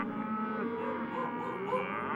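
A single long, low cow moo, close and loud, held steadily for a couple of seconds.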